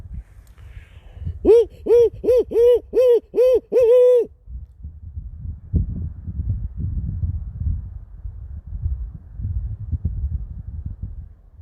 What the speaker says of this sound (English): There's a barn owl calling down the valley.